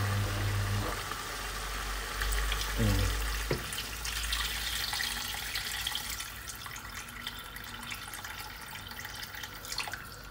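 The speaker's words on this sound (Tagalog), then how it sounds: "Pwede na lagyan ng tubig to." Water running from a tap into a cooking pot for pork spareribs sinigang with onion and carrots, a steady trickling pour with faint low hum beneath, no talking.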